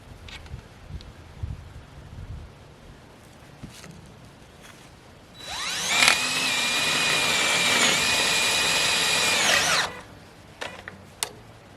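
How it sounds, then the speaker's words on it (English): A power drill drives a tech screw into a metal greenhouse pipe: one loud, steady whine lasting about four seconds, with quiet taps and handling before and after. "I'm going to screw it right in the center of this pipe right here"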